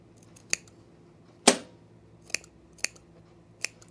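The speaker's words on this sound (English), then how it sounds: "I'm trimming my seam allowance because I don't like all that bulk in there" Scissors trim the fabric seam allowance on a pair of pants being sewn, five sharp, separate snips close by, one louder and longer than the rest, against a quiet room.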